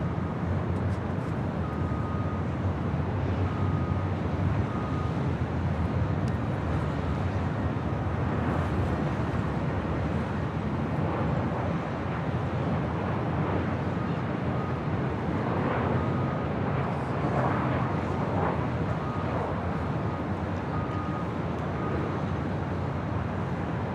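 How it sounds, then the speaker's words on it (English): A Boeing 747-400 freighter departing Los Angeles International Airport, a sustained loud jet rumble with slowly shifting tones across the whole stretch, mixed with airport ambience. "747-400 freighter. Contact departure."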